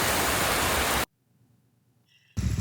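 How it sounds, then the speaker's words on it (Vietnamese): Heavy rain pours down during a motorcycle road trip in Vietnam, a dense, loud hiss that cuts off abruptly into near silence for about a second, then surges back just as strong. "Mưa rồi anh em ơi."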